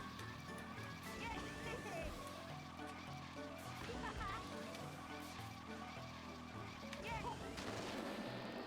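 The Bullet Bill item in a Mario Kart race rushes ahead with a continuous booming, roaring whoosh mixed with game engine noise, while a voice talks over it.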